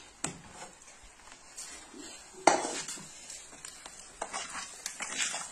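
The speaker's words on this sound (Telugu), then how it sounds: "చూడండి కారం కూడా వేసి కలుపుతున్నాను." Chili powder gets stirred into a pot on the stove: scattered metallic clinks and scrapes of a spoon against the pot, with a few sharper knocks amid faint background sizzle, close and intermittent.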